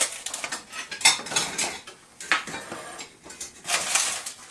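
A metal ladle clinks and scrapes against a pot while sweet rice pie filling (pizza dolce) is spooned into pies, in several short, close bursts of kitchen clatter with no talking.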